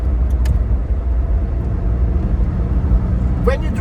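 A Chevrolet Labo small truck running on methane gas, its engine droning steadily from inside the cab while driving, a constant rumble with a couple of brief higher clicks and squeaks.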